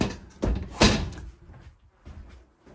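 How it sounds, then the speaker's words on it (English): A large glass-accented closet door in a full-time fifth wheel RV master bathroom swings shut with a couple of close, solid thunks and a brief rattle, then quiet room tone. "Let me close the door"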